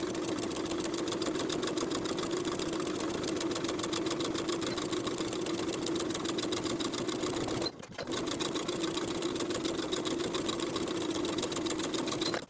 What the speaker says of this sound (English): Then I'll edge stitch along that inner raw edge all the way around.